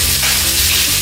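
Pork tenderloin fries steadily in oil in a slightly warped pan, giving a dense, continuous close sizzle with no speech.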